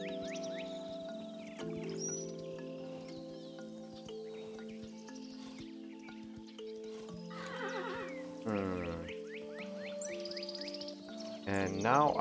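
A horse in Kingdom Two Crowns neighs in a few short whinnying bursts over steady game music, with a louder, closer whinny near the end.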